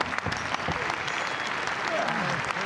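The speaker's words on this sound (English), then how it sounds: "The crowd respond with a round of applause for both men." Crowd applauding throughout at a Pro-Wrestling NOAH GHC Heavyweight Championship match, a steady dense clatter of clapping filling the arena with some crowd noise mixed in.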